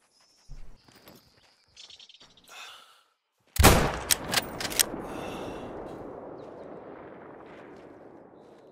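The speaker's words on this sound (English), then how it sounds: "We're shooting a crocodile." In the hunting game The Hunter: Call of the Wild, a single loud rifle shot at a crocodile booms out and rolls away in a long fading echo, followed by a few quick sharp cracks, after faint soft rustling sounds.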